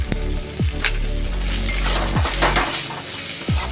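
Turmeric and chili powder fry with ginger in a hot pan while being stirred. A loud, close, continuous sizzle is broken by several quick scraping stirs of a utensil against the pan.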